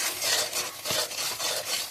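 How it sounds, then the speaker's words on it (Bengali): Masoor dal paste being stirred in a pan until dry, a continuous close scraping and rubbing of a spoon against the pan surface in repeated strokes. "এইভাবে নাড়িয়ে নাড়িয়ে আমি পুরো শুকনো করে নেব।"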